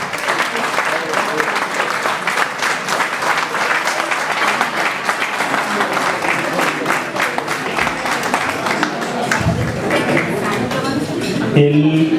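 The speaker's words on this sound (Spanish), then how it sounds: "No sin antes pedirles un aplauso a dos personas" Loud, sustained applause from a ceremony audience at a medal presentation, dense clapping filling the hall, with a burst of voices and shifting noise near the end.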